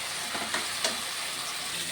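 Ginger garlic paste frying in oil after fried onion makes a soft, continuous sizzle with a few faint stirring scrapes. No one speaks.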